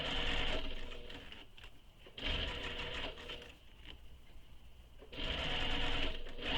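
A sewing machine stitches a tote bag seam in three sustained bursts separated by brief pauses, the motor whirring and the needle rattling steadily up close.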